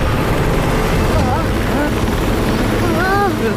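Cartoon drone flying, a steady whirring rotor hum with rising electronic chirps, loud and continuous under a dense animated battle soundtrack.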